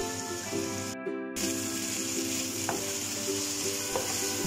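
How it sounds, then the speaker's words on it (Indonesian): Cut pieces of large shrimp fry in hot oil for spaghetti carbonara, a steady, close crackling sizzle that runs throughout with a brief break and a few light pops. "panaskan minyak, kemudian goreng udangnya hingga matang atau berwarna kuning keemasan"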